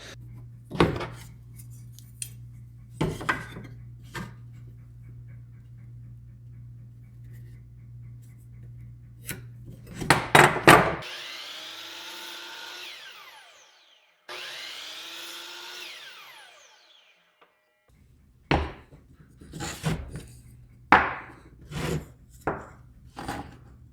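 Wood pieces being cut for a silicone mold box used to cast resin fishing lures: a low steady hum carries sharp knocks and clattering, then two bursts of a power saw ripping through wood, followed by more scattered knocks and taps.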